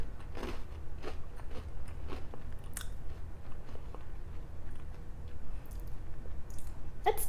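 Someone bites and chews a crunchy gluten-free vegan cookie close to the mic, with a series of sharp crunches in an uneven rhythm over quiet background hiss.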